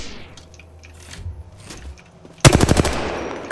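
Automatic gunfire in Apex Legends, a rapid burst of loud repeated shots that starts suddenly midway after quieter game noise, with a few faint earlier pops.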